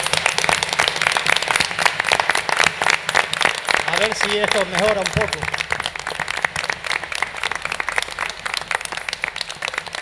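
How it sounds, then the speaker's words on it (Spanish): Audience applause at a folk music school concert, a dense, steady clapping crowd filling the whole stretch while someone speaks briefly over it. "¿Qué les parece si le damos un fuerte aplauso a nuestros hermanos de La Palma que lo están pasando mal?"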